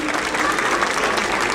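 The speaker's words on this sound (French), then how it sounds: "Je voudrais qu'on les applaudisse très très fort" An audience at a Christmas show with falconry and birds of prey claps loudly and continuously, a dense, lively round of applause with faint crowd murmur beneath.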